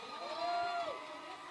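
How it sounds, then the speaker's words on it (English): A crowd at a roller derby bout in Montreal swells into a cheer with a rising whoop, heard from a distance in a large arena. "A huge cheer goes up."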